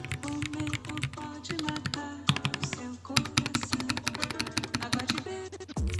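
Typing on an RK N80 low-profile mechanical keyboard, fast continuous clacking keystrokes in quick irregular bursts with brief pauses, close and alone.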